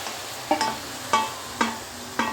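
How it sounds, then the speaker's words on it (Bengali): Pre-boiled chicken stirred in a pan for an oil-free chicken stew: close, rhythmic scraping strokes come about every half second, five in all, over a soft background sizzle, with no talking. "আগে থেকে সেদ্ধ করে রাখা চিকেনগুলোও আমি দিয়ে দিলাম"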